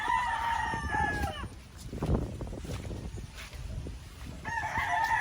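Roosters crow at a game fowl farm in Angat, Bulacan, one long crow near the start and another at the end, over a muddy outdoor background of clucking and low voices.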